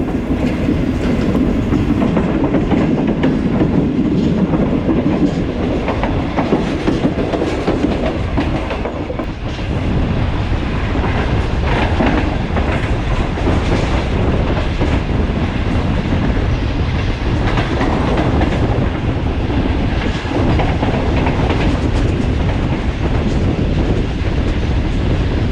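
The Shalimar Express runs from Karachi toward Multan with a loud, steady rumble of wheels on rails and a rhythmic clickety-clack under constant wind rush, with no talking.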